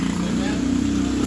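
Engine of a Honda Shogun 125 street bike motorcycle running steadily at close range, a continuous low throb with a dip at the very end, partly under background talk.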